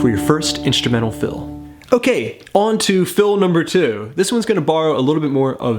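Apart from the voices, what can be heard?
None of the usual background noises is heard.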